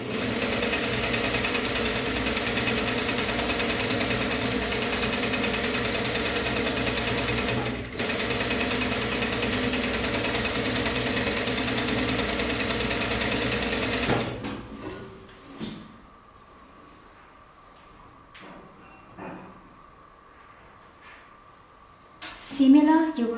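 A sewing machine runs continuously for about fourteen seconds, topstitching close to the edge of an ironed top, then stops, leaving quiet room sound and a few faint handling noises and brief knocks.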